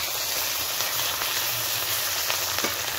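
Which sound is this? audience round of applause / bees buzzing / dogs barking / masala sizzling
masala sizzling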